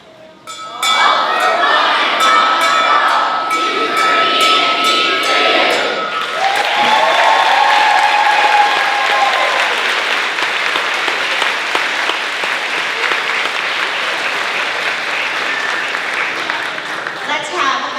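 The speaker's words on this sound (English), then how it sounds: "Let's have another round of applause for these fabulous fifth graders." Sustained applause from a crowd at a school fifth-grade moving-up ceremony, loud and continuous, with a few clinking sounds early on and scattered cheers mixed in.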